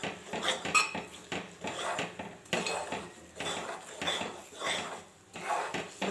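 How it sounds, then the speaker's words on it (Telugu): A spoon scrapes and clinks steadily against a pan while a thick ladoo mixture is stirred, making close, rhythmic metallic strokes with brief pauses. "చూడండి, నేను ఎలా కలుపుతున్నానో, ఉండలు లేకుండా అలా కలిపేసుకోవాలి."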